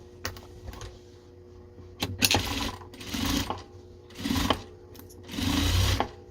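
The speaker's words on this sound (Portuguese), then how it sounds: "E agora eu passo uma costurinha de segurança." A sewing machine runs a short safety seam on a double patchwork pouch, in four or five quick whirring bursts with pauses between, close and clear.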